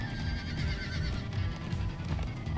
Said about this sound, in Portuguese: Tá passando um monte de cavalo fugindo